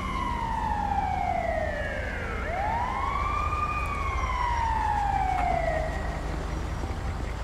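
Ambulance siren in the Los Santos emergency services game, a loud wailing tone that sweeps up and down in long rising and falling cycles, steady and close throughout with no talk over it.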